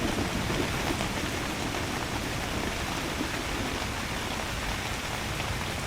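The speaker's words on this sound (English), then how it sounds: "you can just about hear the rain." Heavy rain drums steadily on a Haven Spectre hammock tent during a storm, a dense, even hiss that continues without a break and with no voices.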